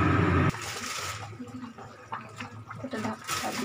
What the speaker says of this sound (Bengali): এবারে জল, গরম জল দিচ্ছি।